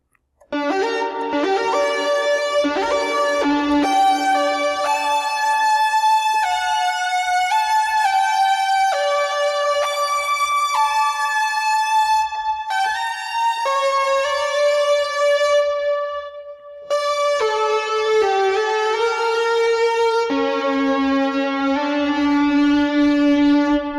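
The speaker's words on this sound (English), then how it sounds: "Let's get some reverb going on here." A Shadow Forest synth plays a slow melodic line of sustained, bright tones drenched in reverb, notes ringing into one another with long washy tails, steady and alone for about twenty-four seconds.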